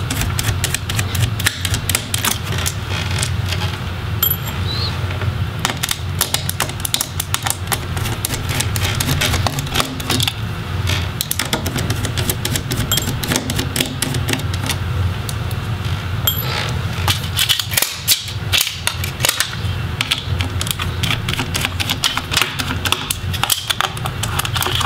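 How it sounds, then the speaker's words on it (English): Screws are backed out of an Asus GL503GE gaming laptop during disassembly, a dense run of close metallic clicks, ticks and small clinks with steady handling noise throughout. "looks like we're clear to take out the screws now"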